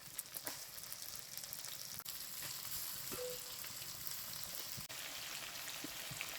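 Chicken pieces fry in a pan for homemade chicken biryani, giving a steady, fairly quiet sizzle peppered with small pops and crackles, heard alone without any talking.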